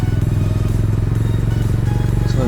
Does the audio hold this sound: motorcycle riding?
yes